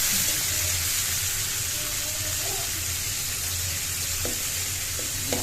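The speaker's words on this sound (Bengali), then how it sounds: "পেঁয়াজ কুচি দিয়ে একটু নেড়ে চেড়ে নিয়েছি" Chopped onion frying in hot oil in a wok while being stirred, a steady close sizzle with faint scraping throughout.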